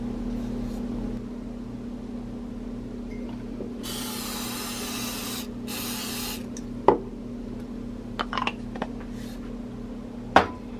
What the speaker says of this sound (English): Just make sure you spray the inside of your measuring cup and the honey does